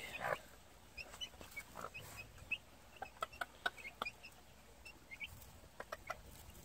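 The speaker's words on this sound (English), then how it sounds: "Chicken knows what's good for it, what's good and healthy." Gamefowl chicks and a hen close by on the ground, with a busy scatter of high thin peeps and soft clucks repeating irregularly throughout, fairly quiet overall.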